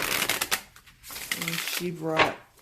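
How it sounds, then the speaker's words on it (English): An oracle card deck is riffle shuffled close up, giving bursts of rapid fluttering card clicks between pauses, with a person talking over part of it. "I love to riffle shuffle, so I can do that with this deck."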